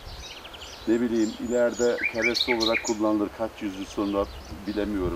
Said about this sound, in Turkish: Bak dalında kuşlar ötüyor.